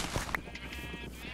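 A sheep bleats once, short and fairly close, in the block-building video game Minecraft, over soft ambient game noise and a faint hum.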